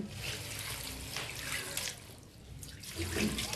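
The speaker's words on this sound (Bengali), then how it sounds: "এখন এখানে দিয়ে দিচ্ছি পরিমাণ মতো পানি।" Water is poured into a cooking pot of seasoned chickpeas in a village kitchen, making a steady close splashing flow with small drips and no talking.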